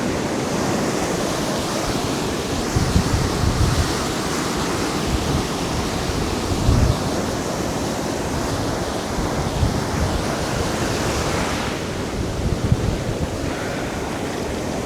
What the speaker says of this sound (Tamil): இன்னொன்று காற்று செம்மையாக அடிக்குது, விசு விசு விசு விசு விசு விசுன்னு.